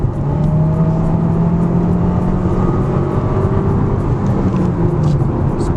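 A brand-new 2024 Mercedes A200 A-Class with a sporty engine hums loudly from inside the cabin, a steady engine drone with rising tonal whine as it pulls, alone without talk.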